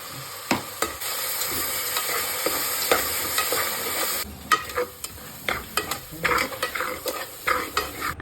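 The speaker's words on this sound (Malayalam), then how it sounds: "ജിഞ്ചർ ഗാർലിക് പേസ്റ്റ് പച്ചമണം മാറുന്ന ടൈമിൽ നമ്മൾ ചുവന്നുള്ളി ചതച്ചത് ഇട്ട് കൊടുക്കുകയാണ്." Crushed shallots frying with ginger garlic paste in a Kerala mutton curry, a steady close sizzle under repeated stirring scrapes and clinks of a spoon against the pan.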